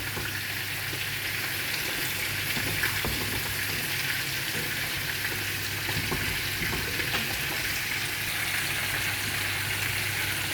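A blended paste of ginger, cumin and garlic, loosened with water, sautés in a pan with an even, unbroken sizzle that stays close and steady for several seconds, with faint stirring and no voices.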